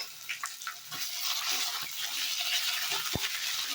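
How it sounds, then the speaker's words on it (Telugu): Ginger garlic paste fries in a pan for a chicken dish, giving a soft, faint sizzle with light stirring scrapes and a small clink near the end, heard alone. "ఇప్పుడే నేను అల్లం వెల్లిపాయ పేస్ట్ వేసేస్తున్నాను."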